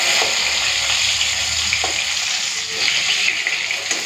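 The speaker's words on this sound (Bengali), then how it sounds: "এই দু পিস মাছ আছে ভেজে নিই" Two pieces of bhetki fish frying in hot oil give off a loud, continuous close sizzle that holds steady throughout, with a couple of faint clinks underneath.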